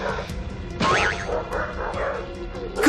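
Two dogs, Zeus and Mong, snarl and yip at each other in a short, noisy tangle of growls and barks, close by, with voices and other background noise mixed in.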